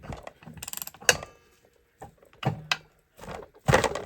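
Flywheel being worked off a Husqvarna 288 XP chainsaw engine, close-up: several short scraping, clicking metallic bursts separated by brief pauses, with a final louder rattle near the end.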